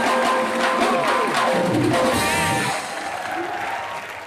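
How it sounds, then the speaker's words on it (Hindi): Studio audience applause on the TV comedy show Comedy Nights With Kapil: a moderate wash of clapping mixed with tonal background music, easing slightly toward the end. "ये जोरदार तालियां एक बार"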